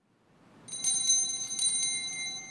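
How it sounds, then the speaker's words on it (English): An altar server rings a bright bell at the start of Mass, a cluster of several quick shimmering strikes that ring on and fade, loud and close in a quiet church. "It is also customary for the server to ring a bell as they enter to alert the people that Mass is beginning."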